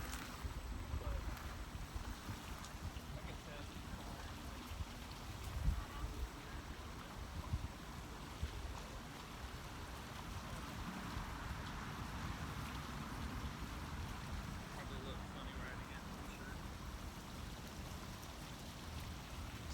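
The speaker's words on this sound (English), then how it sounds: "Sorry if it's a little windy." Steady wind rushes over the microphone while someone rides a Segway Ninebot S outdoors, a continuous low roar holding level throughout, with brief faint voice traces mixed in.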